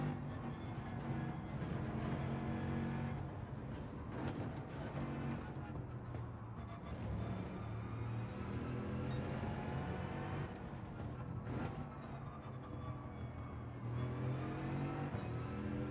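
An Audi RS5 Group 2 race car engine in Gran Turismo 7 drones steadily, its pitch rising and falling through gear changes and revs, at a moderate level with no talk.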